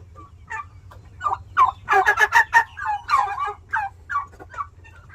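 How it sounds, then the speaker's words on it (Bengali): Australian turkeys on a farm of about 150 birds gobble in a loud, close chorus of rapid rattling calls, several overlapping bursts rising to a peak and then tapering off over low background hum. "অস্ট্রেলিয়ান টার্কি আছে 150 পিস।"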